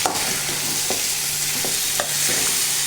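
Small mixed fish are stirred into potatoes in a frying pan, giving a steady sizzle with a few distinct scraping strokes of the spatula, close and fairly loud with no talking.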